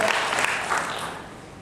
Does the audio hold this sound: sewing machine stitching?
no